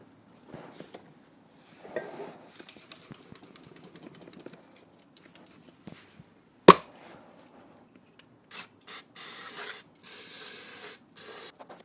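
Several short hissing bursts of cleaner sprayed on a 1.6 HDi/TDCi turbo cartridge near the end, following scattered clinks and rubbing; one sharp knock stands out midway.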